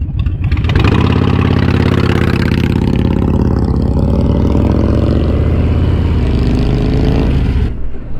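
A Harley-Davidson Iron 883 motorcycle rumbling on a ride toward Brighton Dam, its engine loud and close as it revs up and holds a steady, throaty drone for several seconds before cutting off.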